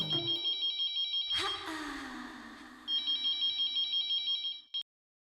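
A phone line rings in repeated electronic pulses after a call is placed, broken by a short whooshing burst of music or sound effect, then the ringing resumes and cuts off.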